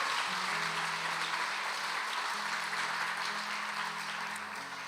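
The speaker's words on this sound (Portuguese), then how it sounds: "dá uma salva de palmas a Jesus" A church congregation claps steadily and continuously, a dense wash of applause that holds at an even level, with a low tonal hum beneath it and no talking.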